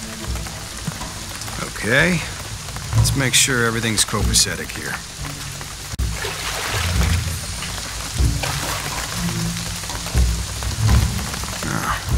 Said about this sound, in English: What I'm telling you is the rain is gonna flood it.